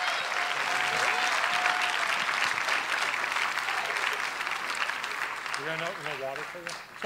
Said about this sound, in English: So let's give a big round of applause for Ms.